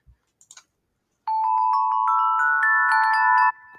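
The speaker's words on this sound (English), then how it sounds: "That one basically just sounds like the 30-inch Corinthian bells" A wind chime with tuned metal tones, resembling 30-inch Corinthian bells, rings in a bright overlapping cluster for about two seconds and then stops abruptly, with a few faint clicks before it and no voices.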